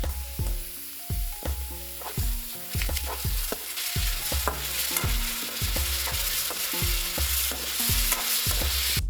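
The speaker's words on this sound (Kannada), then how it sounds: "ಟೊಮಾಟೆ ಹಾಕೊಂಡು ಫ್ರೈ ಮಾಡ್ಕೊತೀನಿ" Onion and tomato frying in a pan for masala dosa, a bright continuous sizzle with a steady rhythm of repeated spoon scrapes and taps against the pan, close and without talk.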